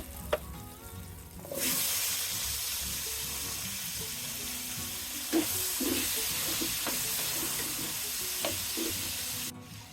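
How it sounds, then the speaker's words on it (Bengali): Potatoes frying in oil left over from frying shol fish hiss loudly and continuously after a brief quieter start, with occasional stirring knocks and scrapes against the pan. "মাছ ভাজা তেলে আমি আলু ভেজে নেব"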